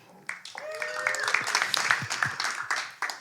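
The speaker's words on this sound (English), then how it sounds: "Can we get a round of applause for him too?" Scattered applause from a small audience at a drum and bass discussion event with a guest speaker, fairly quiet claps with voices and a brief tonal sound mixed in.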